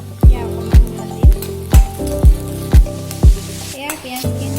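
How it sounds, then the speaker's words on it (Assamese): Onions frying in oil with bay leaf, green chili and cardamom for a rajma and paneer curry, with a steady sizzle under a regular beat of about eight loud spoon strokes against the pan, close up and with no talking. "এতিয়া পিঁয়াজখিনি ৰঙচুৱা হোৱালৈকে ফ্ৰাই কৰি ল'ম।"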